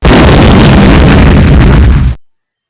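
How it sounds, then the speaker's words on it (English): Loud explosion sound effect played on a PowerPoint slide transition, a sudden full-band blast with rumbling crackle lasting about two seconds before cutting off abruptly to silence. "The sound was of explosion."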